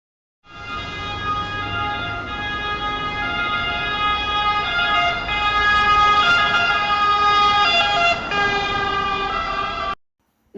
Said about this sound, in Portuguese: Um exemplo típico do efeito Doppler é o caso de uma ambulância com a sirene ligada quando ela se aproxima ou se afasta de um observador.